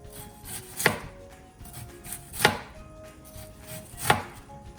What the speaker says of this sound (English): This is the best way to chop onion.